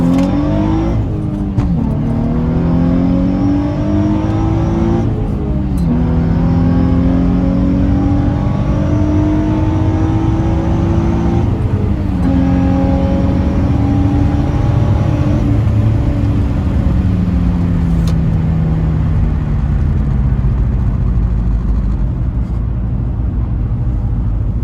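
An Infiniti G35's intake and exhaust roar loudly on a nighttime mountain touge drive, the engine repeatedly climbing in pitch through the revs, dropping on each shift, and rising again.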